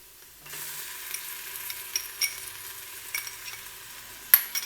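Ginger garlic paste frying with onions in a pan for chicken mandi rice, a soft steady sizzle starting after a quiet moment, with occasional stirring scrapes and clicks, fairly faint and close.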